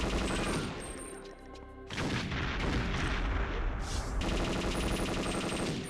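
Dense, loud game gunfire from a weapon in Perfect Dark, heard as rapid bursts of shots and blasts with a short lull in between.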